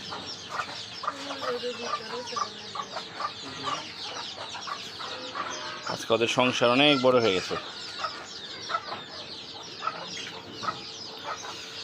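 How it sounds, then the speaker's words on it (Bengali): Native hens and their chicks on a rooftop garden cluck and peep in quick, scattered bursts close by, with a louder flurry of calls midway, while a person talks over them. "দেখেন ছাদ বাগানে আমার মুরগির দেশি মুরগির বাচ্চাগুলো"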